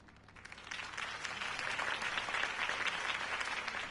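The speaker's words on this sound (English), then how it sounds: "If only Mr. Wayne, my campaign's largest backer, could have heard that applause" A crowd applauds after a campaign speech in a city election setting, a steady, dense patter of clapping that swells slightly and holds at a moderate distance, with no clear talk.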